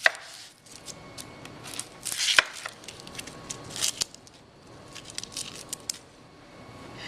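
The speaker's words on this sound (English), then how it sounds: "So I'm going to cut the ends off and cut them in half." A knife slices the ends off onions and halves them on a cutting board, giving irregular sharp chops and crisp crunching cuts with small scrapes between them, close and fairly quiet, with no speech.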